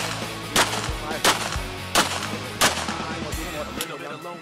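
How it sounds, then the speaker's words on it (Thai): Live gunshots ring out at a night combat shooting drill, several loud sharp reports spaced about a second apart over steady background noise. "เข้าหมายตรงหน้าเคลื่อนที่ไม่หยุดยิงยิงกระจายแสงกัน"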